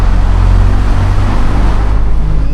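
Rear-mounted air-cooled engine of a Fiat 126p Bosmal small convertible idling steadily up close, a loud continuous low rumble with even throb and no talk over it.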